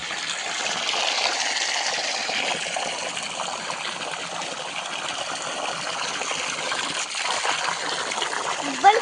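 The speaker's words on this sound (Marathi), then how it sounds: "पाणी फुटतंय बघा" Water gushes out from a burst source near a farm field, a steady, broad rushing hiss that stays loud and constant, with a faint voice briefly underneath.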